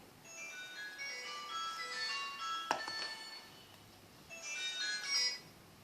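A melodic electronic phone ringtone plays in repeating bursts, fairly faint, with a sharp click midway.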